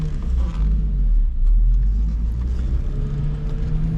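Nissan 350Z with a six-speed manual on a short drive, heard as a steady low engine rumble with mild rises in revs, close and continuous from inside the car, no talking.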